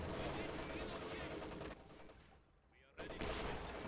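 Battle sounds from Company of Heroes 2 roll on as a dense, loud barrage of gunfire and explosions, with a brief dip before a sharp shot brings the full din back.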